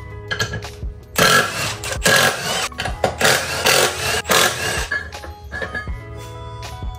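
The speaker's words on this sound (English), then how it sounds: "with the wheel out, we can pop off the old sprockets." Old sprockets come off a Suzuki GSXR 750 motorcycle with its rear wheel removed, heard as loud bursts of a power tool buzzing in close, separated by metallic knocks and brief pauses.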